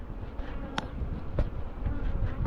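Honey bees buzzing around hive supers during winter preparations: a steady, fairly faint swarm hum with a couple of brief sharp clicks from handling.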